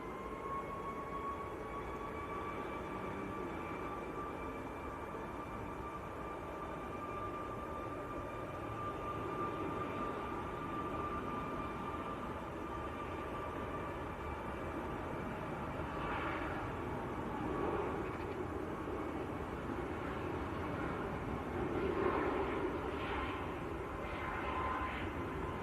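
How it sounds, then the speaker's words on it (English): Engine roar of a TUI jet rolling for takeoff at Manchester Airport, a steady distant rumble with a faint whining tone, building slightly toward the end and heard alone without talk. "Tui on the roll."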